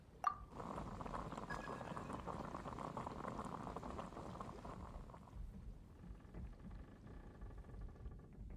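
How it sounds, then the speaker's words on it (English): In Genshin Impact, water boils at a steady rolling bubble, a faint continuous simmer with a small click at the start, thinning slightly after a few seconds. "I'll boil some water."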